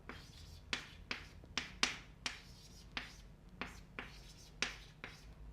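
Chalk or pen tapping and scratching out calculus equations by hand, a steady series of about a dozen sharp clicks at roughly half-second intervals, close but faint over a low room hum.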